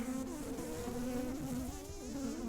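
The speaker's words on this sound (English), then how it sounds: "I don't think I'm going to keep angry bees" A dense, steady buzz of many angry honey bees swarming close by at a beehive, loud and agitated, with a low droning hum that wavers but never stops.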